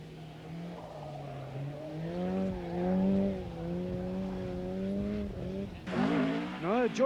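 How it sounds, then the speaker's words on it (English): A rally car on the Nuts Corner racetrack special stage at the 1987 British Midland Ulster Rally revs hard, its engine note holding and rising through gear changes before a sharp burst of high-pitched revving and tire noise near the end. "Now join Russell Brooks and Mike Broad for a tire-smoking trip round the circuit."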